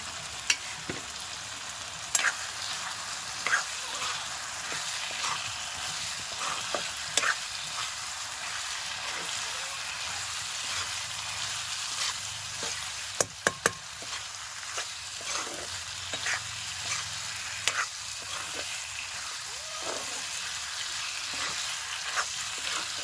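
Chicken liver frying in a spiced masala, a steady low sizzle with scattered clinks and scrapes of a spoon stirring in the pan, fairly quiet and close, with no one speaking.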